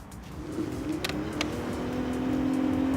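A Kaabo Mantis electric scooter climbs a 10-degree hill at full power, its motor whine rising steadily in pitch over a constant rush of wind and road noise.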